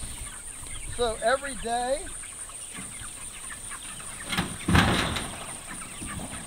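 Chickens in a chicken tractor on a farm give several quick, rising clucks. Outdoor ambience and handling noise run alongside, and someone talks over part of the clucking.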